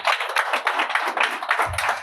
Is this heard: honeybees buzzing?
no